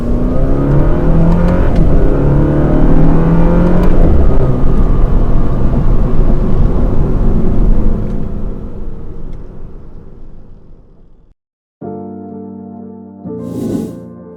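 A BMW F30 328i with a Stage 2 tune accelerates hard, its engine note loud and rising through the revs for several seconds before fading, followed by a brief gap and other tonal sounds.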